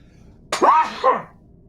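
A single close, loud sneeze from a man on a podcast-style talk show, a sharp inhaled onset followed by a two-part burst, heard alone without talk.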